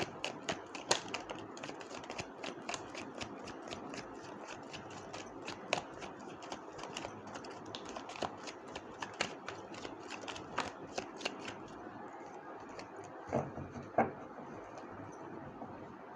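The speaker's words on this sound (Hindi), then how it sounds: "This is my last shuffle" Tarot cards are shuffled in rapid, crisp riffling bursts, close and fairly quiet, with dense repeated snaps for about twelve seconds before the shuffling slows to a few separate taps.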